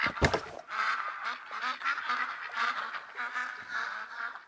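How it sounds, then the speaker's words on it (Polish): Ducks quack and honk repeatedly in a hunting game set in the wild, a busy chattering flock at moderate distance after a brief sharp noise at the start. "ale jedynie co mnie tutaj denerwowało akurat w tym momencie, to te cholerne kaczki"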